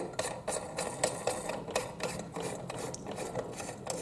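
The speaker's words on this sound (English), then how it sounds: "take this piece and screw it onto" A metal lamp piece is screwed onto the bulb socket of a metal nightstand table lamp, giving a steady run of close, rapid scraping and clicking threads with no talk.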